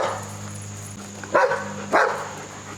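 Two short barks from a puppy at moderate distance, standing out over a steady low hum in a garage workspace where a 1989 Craftsman GT-18 garden tractor is being worked on.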